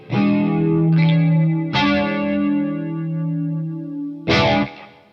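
Guitar chords ring out through a PastFx 80/A flanger pedal, with three strummed hits sustaining and whooshing in a swirling, jet-like shimmer.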